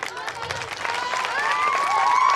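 An audience at a kids' school performance claps steadily throughout, a dense even patter of many hands that swells slightly toward the end, with a few voices and a thin tonal sound running over it.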